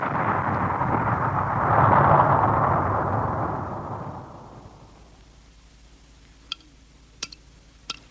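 A firecracker explosion slowed down 1,200 times swells into a loud, deep, rumbling roar that peaks early and fades over several seconds. It is followed by near silence and a few faint, sharp ticks.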